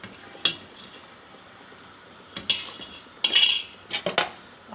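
A metal spoon stirs tripe in tomato sauce in a pot, giving a handful of sharp clinks and scrapes against the sides over a quiet background.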